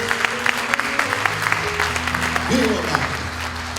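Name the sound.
church congregation applauding warmly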